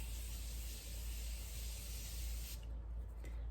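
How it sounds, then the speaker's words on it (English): Makeup setting spray misted from a bottle in one long steady hiss lasting several seconds, close and soft, ending abruptly and followed by a brief quieter spritz. "spray this on, let it dry, and then do your powders and then spray it again"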